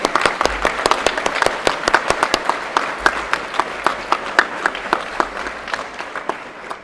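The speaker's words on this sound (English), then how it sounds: "But let's give her a round of applause anyway." A school prize-giving audience claps for a journalism award winner, a fairly close, loud round of applause with individual claps clearly audible in an uneven rhythm, tapering slightly toward the end.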